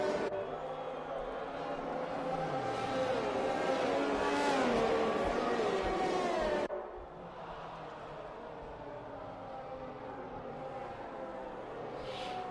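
Race car engines in a video game race under safety car at the Netherlands round, a sustained loud engine drone with shifting revs and whine that drops abruptly to a lower, steadier hum, no talking.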